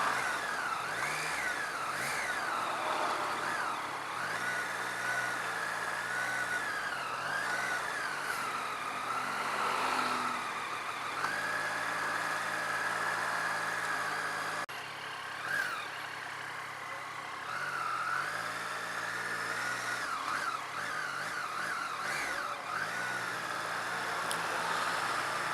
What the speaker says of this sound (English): Too many cars for my liking.